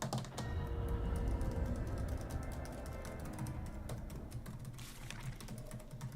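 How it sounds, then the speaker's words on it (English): Rapid clicking keystrokes on a computer keyboard, an irregular stream of sharp taps close to the microphone, continuing steadily over a low background hum without speech. "But Psyche, can you clicky clack on your keyboard?"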